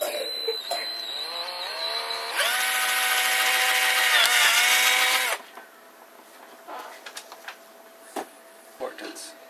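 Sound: drill drilling hole in plastic lid

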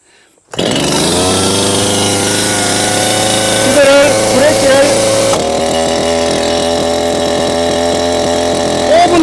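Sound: Stihl MS230 chainsaw engine starting

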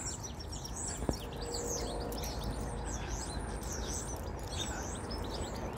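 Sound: birds singing in the trees

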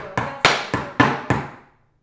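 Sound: tap dance steps: flap, heel, toe taps

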